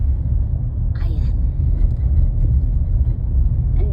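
Steady low rumble of a car heard from inside the cabin while driving along the Las Vegas Strip at night, continuous road and engine drone with faint wind noise and occasional brief higher sounds over it.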